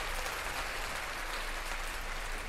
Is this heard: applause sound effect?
yes